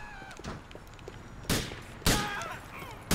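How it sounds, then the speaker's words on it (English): Two loud, sharp gunshots from the video game GTA 4 crack out about half a second apart, with game sounds and voices around them. "He's shooting me!"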